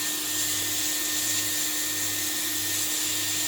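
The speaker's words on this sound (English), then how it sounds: "use heat gun" Heat gun blowing onto a power bank circuit board during connector removal, a constant loud fan roar with a steady whine and low hum, unchanging throughout with no talking.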